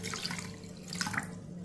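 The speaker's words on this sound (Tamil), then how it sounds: "இதில் கொஞ்சம் தண்ணி ஊற்றிக்குவோம்." Water is poured steadily from a tap-like stream into a bowl of cooked rice, a continuous close splashing and trickling with brief brighter gurgles, no voices.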